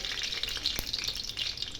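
Tempering spices hit hot oil in a kadai and crackle in a steady, bright sizzle for a couple of seconds, with one sharp click partway through.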